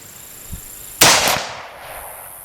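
A single sharp rifle shot from a CZ-527 chambered in 7.62x39, fired outdoors at a steel plate target, a loud crack followed by a brief echoing tail, with a faint tap just before it.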